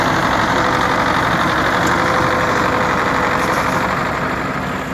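A tractor's engine runs steadily and loudly close by while it works to push a stuck semi-truck that has sunk into the ground, a continuous rumbling drone with no talk over it.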